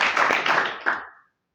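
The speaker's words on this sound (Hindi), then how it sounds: "यस, इनके लिए जोरदार तालियां।" Audience applause at a Hindi-language public speaking seminar in a company setting: a short burst of dense clapping from a group, loud and close, swelling once more before cutting off abruptly into silence.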